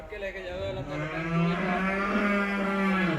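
A high-yielding Holstein Friesian dairy cow, freshly calved and offered for sale at a farm near Bhagta Bhai Ka, Bathinda, gives a long, loud, sustained moo, close by, with some faint background noise.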